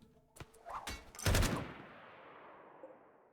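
Shotguns fire in the colony game Rimworld, a few quick scattered reports leading into one heavy, close blast that trails off in a long fading rumble, with no talking.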